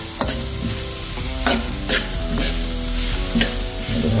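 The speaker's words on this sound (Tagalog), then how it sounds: "Halo-haloin lang natin." Tilapia sisig stirred in a frying pan, with repeated scraping strokes and a steady sizzle underneath, close and fairly loud, no voices.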